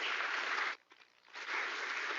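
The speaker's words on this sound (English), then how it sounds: "Let's give them a round of applause, shall we?" An audience at a hydrogen symposium breaks into loud applause, dense clapping that stops abruptly for a brief moment, then swells back just as full.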